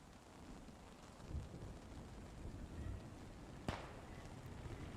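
A rainstorm hisses steadily in the war game Post Scriptum, with low rumbling underneath and one sharp crack of thunder partway through, fairly faint and distant overall.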